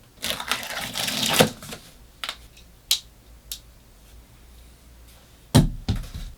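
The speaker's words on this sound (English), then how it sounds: "So when cutting open a box, always cut away." A knife slicing through a cardboard box in a series of scraping cuts and sharp clicks, close and fairly loud, spaced irregularly with quiet gaps and no talking.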